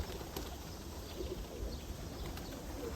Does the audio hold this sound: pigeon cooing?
yes